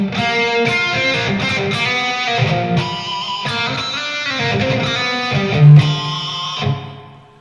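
Electric guitar chords played through a Tonex One pedal ring out with a large, shimmering plate reverb, notes blooming and trailing into a long wash that fades at the end.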